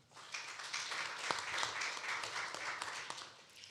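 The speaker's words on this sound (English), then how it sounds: "So, a round of applause to everybody." Faint applause from a panel audience at a big data and sustainable development discussion, a soft, distant wash of clapping with a few sharper claps poking through, swelling and easing over a few seconds.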